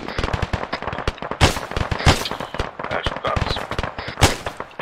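Automatic gunfire in the ArmA 3 military video game, with dense rapid bursts of rattling shots and a few heavier booms, loud and continuous with faint radio-style voices underneath.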